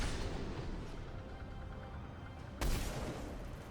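Battle rifle gunfire in the video game Mass Effect 3, a dense roar of shots and explosions with one sharp, louder burst near the end; no talking.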